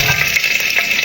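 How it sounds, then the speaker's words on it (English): Onion, garlic, pimento berries and crushed red pepper flakes sizzle in hot coconut oil for Jamaican-style steamed cabbage: a brief, steady, close frying hiss with no talk. "saute for about 1 to 2 minutes"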